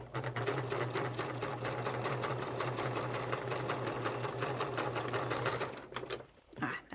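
Sewing machine stitching a fabric satchel, a steady rapid mechanical whir with even needle strokes running for several seconds before stopping abruptly, close up and alone.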